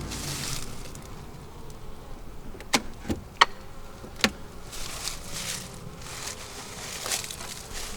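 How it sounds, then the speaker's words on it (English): Honeybees buzz in and around an open beehive during a late-season inspection, a soft continuous hum with a few sharp clicks and knocks of hive equipment. "Oh, we have bees in there."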